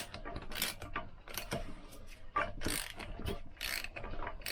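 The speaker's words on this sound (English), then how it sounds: "So that's our flywheel on, and just what I suggest you do is just turn it a few times the correct way." A Lambretta scooter flywheel turned by hand on the engine, close mechanical clicking and ratcheting in irregular bursts with faint creaks and no talking.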